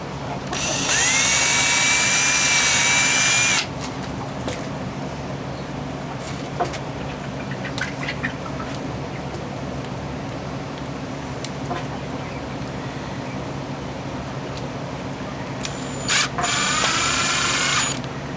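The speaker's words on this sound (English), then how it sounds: "I'll go ahead and put the screws in these." A power drill drives screws into a shade house frame in two loud bursts of motor whine, one near the start and a shorter one near the end, separated by quieter outdoor background.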